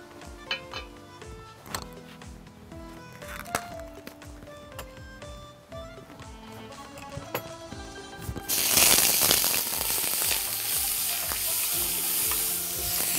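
Onion hits hot oil in a pan for a seafood tagine with béchamel and bursts into a loud, steady sizzle partway through, after several earlier clinks of utensils against cookware.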